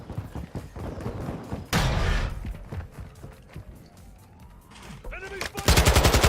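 Gunfire in a shooter video game, with sharp close shots and rapid bursts in several clusters, including a dense loud volley at the end, over busy game sounds.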